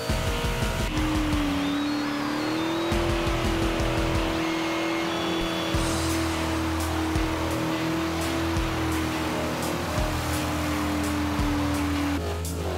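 Supercharged Corvette Z06 engine in Forza Horizon 2 drones loud and sustained at a steady pitch, with tires squealing as the car drives hard.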